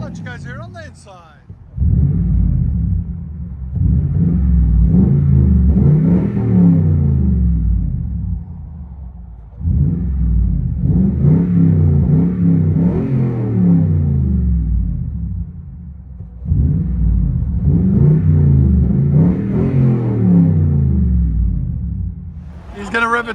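Heard from inside the cab, a Toyota Tundra 5.7L V8 with a 3-inch aftermarket exhaust gives three long, deep rumbling rev surges, each separated by a short lull.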